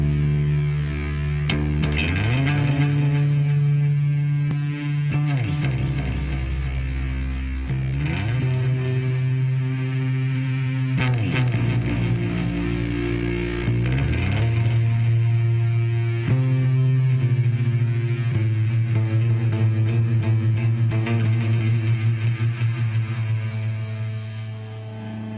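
Bass guitar through combined echo and fuzz effects, a thick distorted tone with sliding low notes and repeating echoes, played alone without talk.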